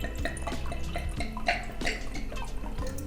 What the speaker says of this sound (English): sounds like a wine pour